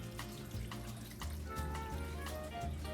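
Water poured from a cup into a pot of homemade chili, a steady liquid rush with splashing, heard alone and fairly close without any talking.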